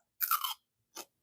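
Crunchy organic celery being chewed up close, with two crisp, crackling bites: a longer crunch and then a short one, with silence around them and no voices.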